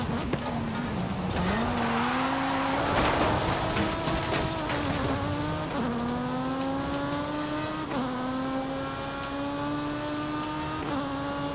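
Engine of a car driven in Forza Horizon 5 during a Cult Legends seasonal championship event, revving continuously and rising through gears with brief shift dips, loud and sustained without talk.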